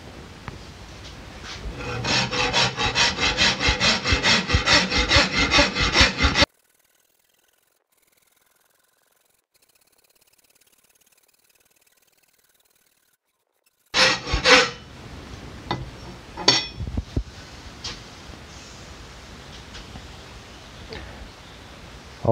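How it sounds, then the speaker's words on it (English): A rasp scrapes rhythmically across the wooden limbs of a board bow in steady, close strokes, then goes silent for several seconds before more uneven, scratchy rasping strokes resume. "I did the little bit of rasping on my inner halves of my limbs"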